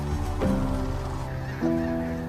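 Wild birds call at a North American wetland: two goose-like honks ring out about a second apart over a steady wash of background noise.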